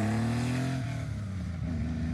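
A 1978 car engine runs close by, its harmonic drone dipping briefly in pitch then holding steady, with no talking.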